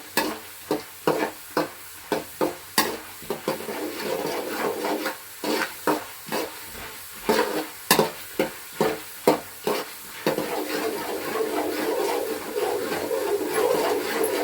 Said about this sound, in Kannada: ಪುಟಾಣಿ ಶೇಂಗಾ ಬೀಜ ಫಸ್ಟ್ ಹಾಕ್ಕೊಂಡು ಆಮೇಲೆ ಕಡಲೆ ಹಾಕ್ಕೊಳ್ಳಿ ಎರಡು ಫ್ರೈ ಆದಮೇಲೆ